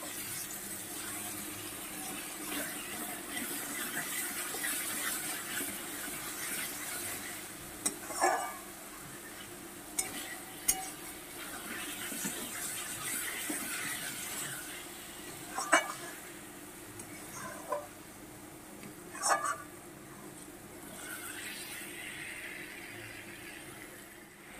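Fried potatoes are stirred in oil with fish roe in a pan, a soft steady sizzle under scattered scrapes and clinks of the spoon against the pan, all fairly quiet and close.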